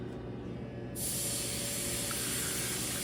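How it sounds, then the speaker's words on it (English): Steam sprays through a paper towel onto a pool cue shaft to lift marks, a loud, steady, close hiss that starts abruptly after a second of quieter background and continues without a break. "try to target the steaming directly into these marks"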